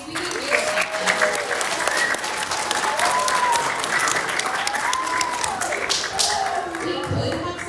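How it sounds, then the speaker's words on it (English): Sustained applause from a school assembly audience celebrating summer academy students, dense steady clapping filling the room with a few louder taps and murmuring voices beneath. "Can we give a round of applause to the students of Summer Academies?"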